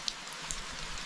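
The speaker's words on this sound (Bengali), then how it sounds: "এই বৃষ্টির শব্দটাই আমার সবচেয়ে প্রিয়।" Rain falls outside a self-built house in the forest near Pirojpur, a faint, steady hiss of patter with a few sharper drops landing close by, and no voices.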